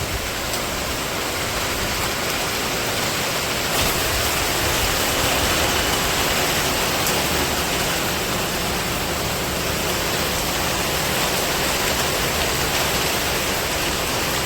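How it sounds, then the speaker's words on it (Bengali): Heavy rain with wind outside a village house, a dense, steady roaring hiss of downpour, loud and unbroken throughout with no voices. "এই যে বাহিরে ভালো বৃষ্টি হইতেছে"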